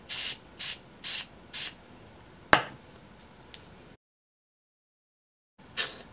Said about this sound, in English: I'm going to use the SOS spray because I'm getting a little bit itchy on my wrist.